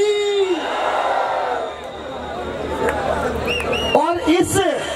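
Crowd at a live Jai Dhnop Maa lucky draw event, a steady hubbub of many voices cheering, with a few whoops and shouts rising near the end.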